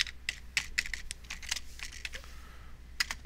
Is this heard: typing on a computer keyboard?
yes